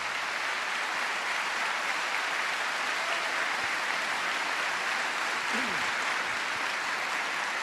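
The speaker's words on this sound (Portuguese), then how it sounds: "Pode aplaudir a palavra." Steady applause fills a church congregation after a reading, a dense even wash of clapping that holds for several seconds with faint murmuring underneath.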